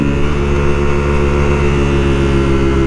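A sportbike engine in fifth gear, ridden by a motocross rider on his first sportbike outing, droning loud, steady and close with a continuous even tone and no talking.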